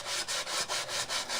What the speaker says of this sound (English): Whenever I get paint like this, I just use a sanding block to get that off.